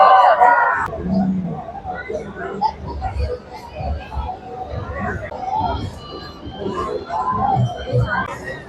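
A dense crowd presses through the Lalbaugcha Raja pandal in Mumbai, with a close, continuous babble of many voices, shouts and children's calls surrounding the listener throughout.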